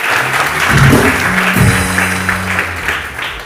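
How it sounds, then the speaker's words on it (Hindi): Studio audience applause for a couple at a walima segment on a television morning show, a moderate wash of clapping under a brief bit of cheering and talk. "तालियां जी वलीमे के लिए बहुत सारी"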